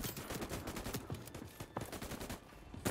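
Quick repeated gunshots from the video game Voidtrain fire in a rapid rattling stream, fairly faint overall, with bursts and short pauses.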